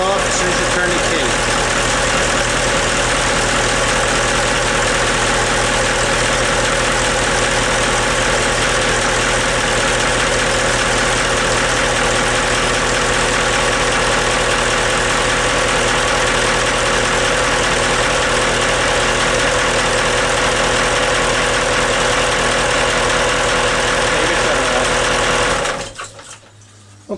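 Caterpillar marine engines idling aboard a Portofino catamaran give a steady, loud, smooth mechanical drone with an even low hum. It runs unbroken for nearly the whole stretch, then cuts off abruptly near the end.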